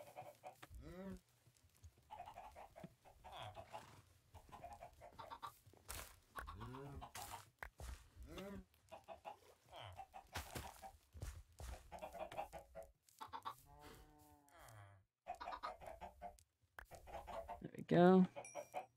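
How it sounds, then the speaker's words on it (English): Chickens cluck in the video game Minecraft, short clucks scattered among frequent talk over quiet game sounds. "Put some more chickens in here"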